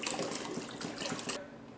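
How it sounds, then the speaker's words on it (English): Filtered water pours steadily into a pot of soaked red beans, a close, continuous gushing fill that cuts off near the end. "So now I'm adding my distilled, filtered, or purified water."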